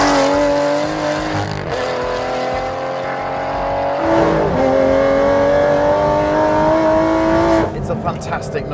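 An Aston Martin Vantage engine revs loudly nearby, its pitch rising and falling in several surges, with a sharp burst of revs near the end.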